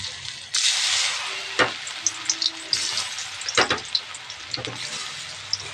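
Soybean chunks fry in hot oil in a wok, a loud steady sizzle broken by sharp scraping and stirring clatters from a spatula at irregular intervals.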